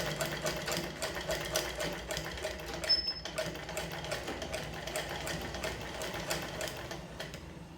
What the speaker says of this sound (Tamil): இப்போ நம்ம தைத்து கொண்டு இருப்பது பைப்பிங் ஃப்ராக்.